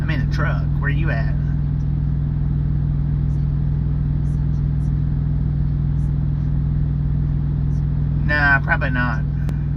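Steady low engine drone of a truck running on the road, constant throughout, with someone talking briefly near the start and again near the end.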